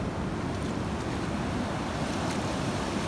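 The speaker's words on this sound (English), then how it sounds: "the waves are pretty extreme" Ocean waves crash against jagged rocks at the shore in a loud, continuous roar of surf and spray, blended with wind, with no voices.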